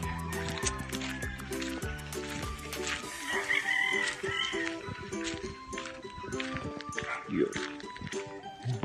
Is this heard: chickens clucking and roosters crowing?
yes